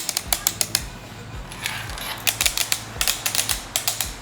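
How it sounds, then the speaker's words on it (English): Quick bursts of crisp clicks from magnetic paddle shifters on the steering column of a Honda-swapped Ferrari with an air-shifted sequential gearbox, tapped in rapid clusters with short pauses between, close and dry. "For anyone in the know, these are magnetic paddle shifters and they feel incredible"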